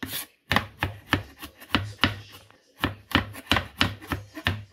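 Knife blade chopping garlic on a cutting board, a steady run of crisp, close knocks in quick rhythm with brief pauses, no voices.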